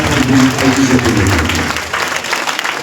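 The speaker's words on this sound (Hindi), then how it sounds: "ताली बजा के परमेश्वर को धन्यवाद दो।" A church congregation claps hands together at a Christmas service, dense steady applause filling the room and then thinning toward the end, with voices mixed in underneath.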